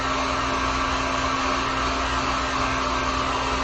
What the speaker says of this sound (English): I am going to go ahead and heat gun this real quick